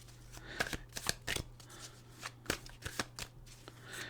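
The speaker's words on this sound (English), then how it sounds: "I'll shuffle that up a little bit." Close, crisp riffling and slapping of a deck of tarot cards being shuffled, in quick irregular bursts with short pauses between.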